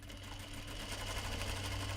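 A sewing machine runs steadily, stitching a seam on a knot bag, its fast even whir continuous and close throughout with no talking.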